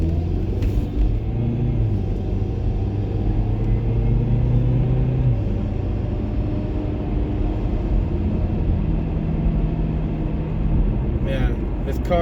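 Car driving with a continuous low engine and road rumble that swells slightly as it speeds up, heard from inside the cabin with no pauses.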